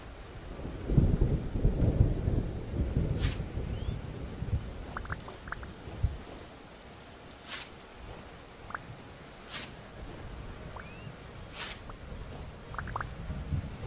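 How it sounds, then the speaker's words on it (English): A thunderstorm in the Vintage Story video game brings steady rain patter with a low rumble of thunder early on, then several faint, sharp crackles and distant rolls scattered over the constant shower. "hopefully this thunderstorm isn't creating another wildfire"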